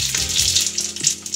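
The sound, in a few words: tempering spices frying in hot white oil in a wok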